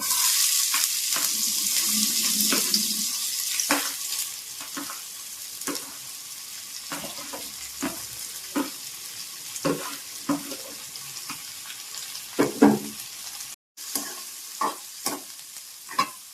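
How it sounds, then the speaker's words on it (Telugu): Chopped onions fry with cumin in hot oil, a continuous close sizzle broken by repeated scraping stirs of a spoon against the pan, with no voices present. "కొద్దిగా సాల్ట్ వేసుకొని బ్రౌన్ కలర్ వచ్చేంత వరకు ఉల్లిపాయలు వేయించుకోవాలి"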